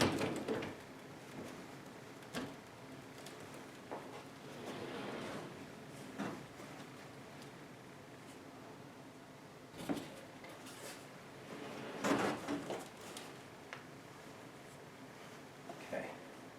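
A sliding closet door is tilted and its rollers hooked onto the overhead track, giving scattered close knocks, thuds and scraping rattles with quieter rustling in between.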